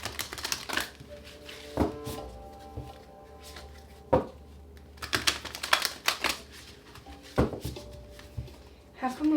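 Several quick riffling bursts of a deck of cards being shuffled, crisp and close, with short pauses between them and soft taps as the deck is squared.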